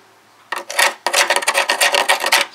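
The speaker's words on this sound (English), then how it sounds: "I'm going to grind this out of here." Grinding on layered metal of a car body during bodywork, loud harsh rasping strokes in short bursts, close and alone with no talk.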